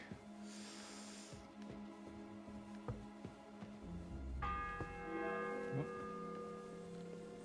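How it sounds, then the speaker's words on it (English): A church bell rings out in the medieval video game Kingdom Come Deliverance 2, a sustained metallic tone swelling midway over quiet ambient rustling and breathing sounds. "The fourth bell."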